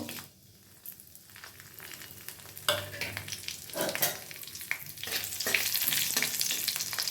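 Whole dried red chillies, cumin seeds and two bay leaves crackle in hot oil for a Bengali paneer curry. The sizzle starts faint, then swells into a steady, close spitting hiss with sharp pops and scrapes of stirring.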